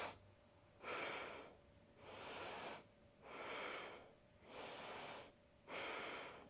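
Five slow, deep breaths drawn in a yoga side plank, each a broad airy rush lasting about a second with short quiet gaps between them, close and steady in an otherwise quiet room.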